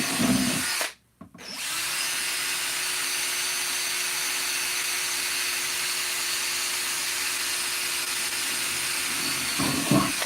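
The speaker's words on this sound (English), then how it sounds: "I have no idea how many holes to drill." A power drill whirs steadily for several seconds after a brief pause, drilling holes in plastic, its high even whine continuing without a break until the end.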